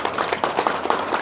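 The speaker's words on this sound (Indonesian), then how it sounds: "Tepuk tangan dulu." A short burst of audience applause in a crowded hall during a religious talk, with dense overlapping claps at close range.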